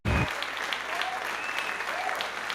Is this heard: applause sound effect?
yes